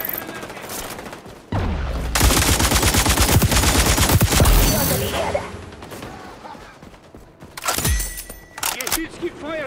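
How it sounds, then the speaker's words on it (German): Rapid automatic fire from a deployed turret in the shooter XDefiant, loud continuous bursts with crashes and impacts, a brief lull, then another sharp volley; a voice speaks over parts of it. "Geschütz gibt Feuerschutz."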